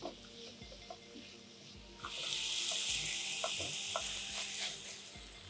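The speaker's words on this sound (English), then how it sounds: "Let's saute this on high flame with some salt, garam masala, chopped tomatoes." Onions and capsicum sauté on high flame with salt, garam masala and chopped tomatoes, starting with scattered stirring clicks before a steady hissing sizzle rises and carries on under continued stirring.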